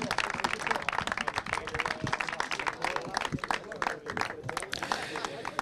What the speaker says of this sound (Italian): Chiediamo un applauso per ricordarlo